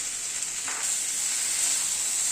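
Long tomato slices go into a hot pan for a vegetable starter, giving a steady close sizzle and fry hiss with a brief soft stir near the start, no voices.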